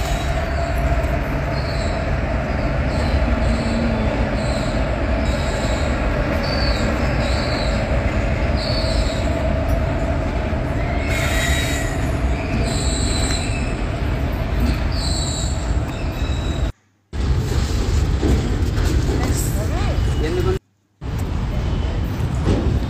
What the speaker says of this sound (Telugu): A train train train